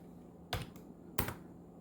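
Two separate keystroke clusters on a computer keyboard, typing a command into a terminal, each a short quick patter of clicks, close and fairly quiet with silence between.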